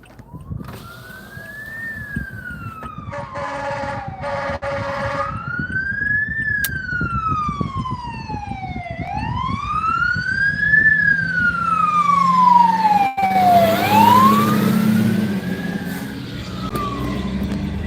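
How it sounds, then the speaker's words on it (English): A wailing emergency-vehicle siren sweeps slowly up and down in long cycles, growing louder as it approaches during a line wildfire, over a rumbling engine and road noise, with a faster yelp near the end. "I hear a siren coming."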